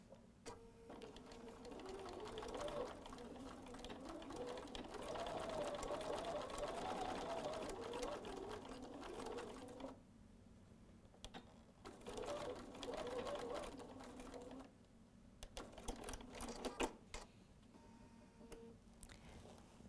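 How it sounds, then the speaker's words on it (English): A sewing machine stitches across the strap of a quilted tote bag, steady rapid mechanical whirring in two long runs with a short pause and a few stop-start bursts, close and clear. "we're just going to sew across here and right across the top here"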